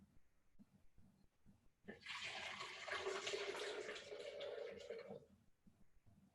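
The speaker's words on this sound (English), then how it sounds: "we're going to go ahead and add in 2 cups of hot water" Hot water pours steadily for about three seconds into a blender jar holding turmeric powder, a broad splashing rush under the sound of a few light kitchen movements before and after.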